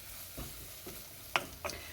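A spoon mixes nutritional yeast, soy sauce and mustard into a dry mixture for vegan gravy, giving a few quiet soft scrapes and two sharper clinks against a bowl over low background hiss.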